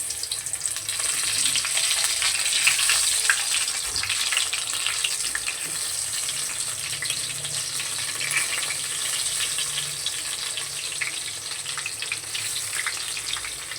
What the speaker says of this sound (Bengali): এখন আগে আমি বেগুনগুলো ভেজে নেব।